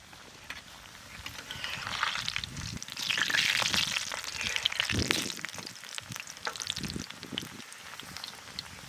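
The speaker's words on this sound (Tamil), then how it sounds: "பிஸ்கட் அப்படியே எண்ணெயில் இறக்கிப்போம்" 50-50 biscuits frying in oil over low heat, a steady broadband sizzle with bubbling swells and scattered crackles, close and continuous with no talk.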